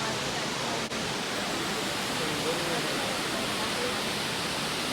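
A waterfall gives a steady, dense broadband rush of falling water, loud and unbroken throughout with no voices.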